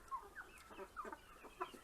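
Several Silver Wyandotte chickens cluck and murmur close by in short, overlapping bursts.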